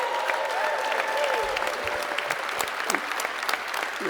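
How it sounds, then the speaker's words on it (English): Dense, loud applause from a stadium crowd honoring a championship team, a continuous wash of clapping with scattered whistles and cheers throughout. "Give them a real round of applause."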